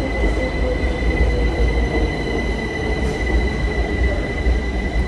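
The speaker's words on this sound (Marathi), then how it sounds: "सो गायज आतां ट्रेन येयली" A passenger train pulling into a station platform, its wheels squealing in a continuous high metallic whine over a deep, steady rumble of the cars, loud and close, with no voices.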